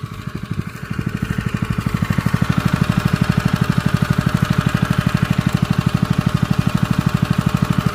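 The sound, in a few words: engine of borehole water pump idling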